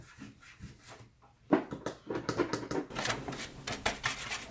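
A computer keyboard is opened up with a small toolkit: close, intermittent scraping, rubbing and plastic clicks, sparse at first, then busier and denser.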